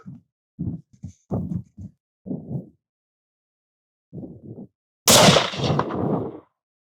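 A Springfield Waypoint 2020 rifle chambered in 7PRC fires one loud, sharp shot near the end, with a ringing decay. Brief bursts of talk come before it.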